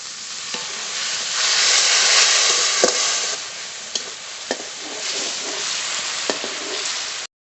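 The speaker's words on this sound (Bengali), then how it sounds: "পরিমাণ মতো হলুদ গুঁড়ো একটু জল দিয়ে মশলাটা কষিয়ে নেব" Spice paste with turmeric powder, salt and a splash of water sautés in hot oil for a katla fish curry, giving a steady close sizzle that swells and eases, with a few sharp taps of a stirring spoon.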